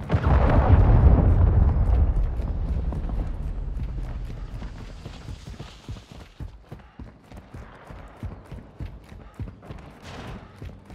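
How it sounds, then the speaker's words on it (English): A cruise missile strike in Call of Duty lands as a loud, rumbling blast that swells and slowly fades, followed by scattered pops and crackling debris or distant gunfire. "Friendly cruise missile deployed."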